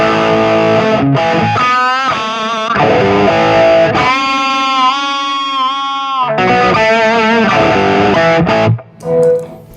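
Electric guitar played through a Strymon Sunset Drive distortion pedal, loud and saturated with rich harmonics, chords and sustained bent notes ringing for nearly ten seconds before a brief break near the end.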